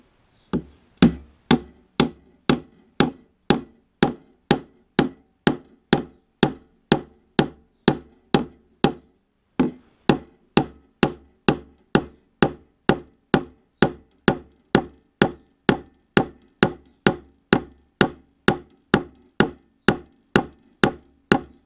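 A small hammer strikes a wood chisel set against a wooden stick in a steady run of sharp, evenly spaced knocks. There is a brief pause midway, and then the close, loud strikes resume.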